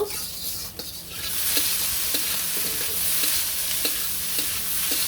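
Potatoes fry in a pan over a village cooking fire, a continuous close sizzle with occasional soft stirring ticks, steady and loud throughout with no talking.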